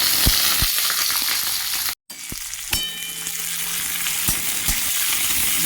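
Chopped onion, garlic and dried chili hit hot mustard oil in a kadai, giving a steady broadband sizzle with a brief cut near the middle, then continuing to crackle and spit with occasional stirring clicks.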